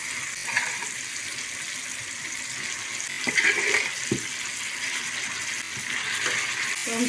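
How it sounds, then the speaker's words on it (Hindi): China rai saag greens frying in a pan over a clay stove, giving a steady close hiss and sizzle with a few soft clicks and stirring scrapes. "तो हम साग को फ्राई करते हैं"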